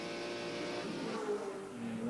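A BMW 635 Group A touring car racing at Amaroo Park in 1986, its engine droning and rising in pitch as it accelerates through a corner, with other race cars around and no voices.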